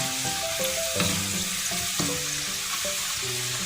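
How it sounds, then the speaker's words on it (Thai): French fries frying a second time in hot oil give off a steady, close bubbling sizzle. Music plays over it the whole time, and no one speaks. "เราก็จะทอดสองครั้งเหมือนกันนะ"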